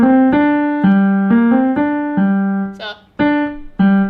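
Piano chords from a title theme struck in a steady sequence, each sustained briefly before the next, with one short rustle in the middle.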